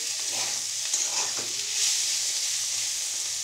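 Onions and garlic browning in a pan for chicken curry, a close, even sizzle with soft stirring sounds throughout, no voices.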